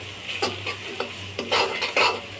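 Chopped onions frying in a pan with a soft steady sizzle, broken by several brisk scraping stirs of a spoon against the pan at irregular moments; no one speaks.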